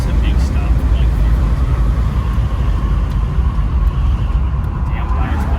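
A 1964 Ford Country Squire braking to a stop on bias ply tires, a loud continuous low rumble and road roar filling the cabin steadily throughout.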